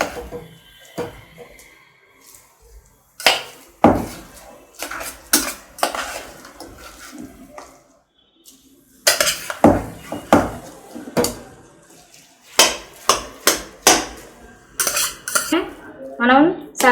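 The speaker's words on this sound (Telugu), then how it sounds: "ఇప్పుడు మనం ప్యాన్ ఆన్ చేసుకుని ఒక టేబుల్ స్పూన్ నెయ్యి వేసుకుని మ్యాష్ చేసుకున్న పప్పుని ప్యాన్లో వేసుకోవాలి." Mashed lentils cooked in ghee in a pan for sweet-shop-style bobbatlu: close, loud clinks and scrapes of a metal spoon against the pan in bursts, with a brief pause midway and no speech.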